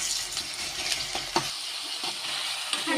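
Onions, green chillies and ginger frying in oil for a simple chicken curry are stirred, giving a close crackling sizzle with several scraping strokes and clicks of the utensil; no one speaks.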